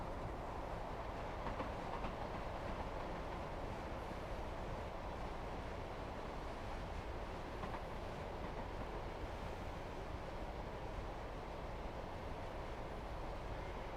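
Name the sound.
train running in Train Sim World 4 video game, Midland Main Line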